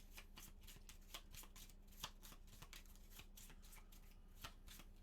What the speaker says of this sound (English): shuffle my discards.